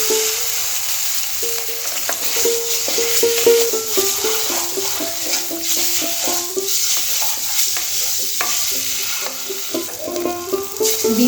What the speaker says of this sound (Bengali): প্রথমে ডিমগুলো একটু ভেজে নেব